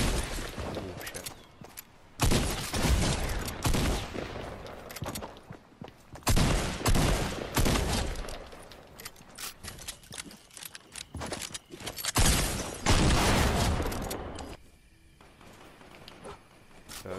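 Shotgun blasts from a double-pump glitch in Fortnite come in loud, sharp bursts at irregular intervals, separated by quieter stretches of footsteps and game noise.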